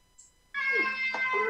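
A cat meows once clearly and fairly close, with a short, drawn-out wavering cry that rises and then trails off.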